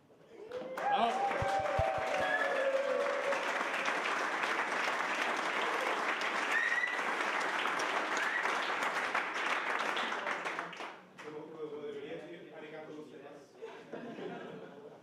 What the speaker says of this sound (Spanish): os levantéis y aplaudáis como si fuera como si os fuera la vida en ello